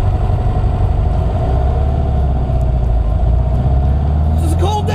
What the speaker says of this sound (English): Engine sounds solid. She's idling nicely.